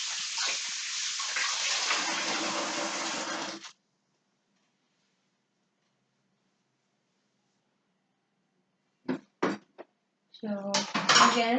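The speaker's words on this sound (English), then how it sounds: "I wash first the vegetables for a cut." Vegetables such as carrot and zucchini rinsed under running water in a sink, a steady broadband wash of water for several seconds, then silence, then short clatters and splashes of handling near the tap.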